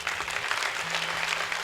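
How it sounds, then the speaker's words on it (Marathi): Audience applause at a Hindu devotional week-long harinam saptah gathering, a steady wash of clapping through the whole short stretch, moderately loud with a faint tonal hum beneath. "एकदा 2 मिनिटासाठी टाळ्या वाजवा"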